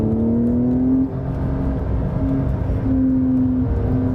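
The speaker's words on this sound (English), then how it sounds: "let's see how this baby handles when you open it up a little bit" A 2020 Porsche 911 Carrera S (992) with an 8-speed PDK gearbox in Sport Plus accelerates hard, its engine note rising in pitch through several gear changes, heard steadily from inside with no talking.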